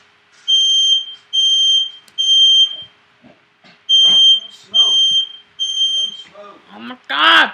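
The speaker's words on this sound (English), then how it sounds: "Stupid fire alarm!" A smoke alarm inside a parkour school blares in loud repeated beep bursts, about six in all, while people shout and talk between and over the pulses.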